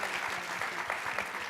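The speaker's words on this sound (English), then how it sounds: "let's give everyone a round of applause" An audience at a community center event about latkes applauds steadily, a dense wash of clapping from a room full of people, with no voices over it.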